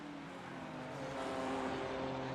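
BMW GT3 race car engine at Mount Panorama in a racing video game, a steady harmonic drone that grows slightly louder partway through as the car accelerates.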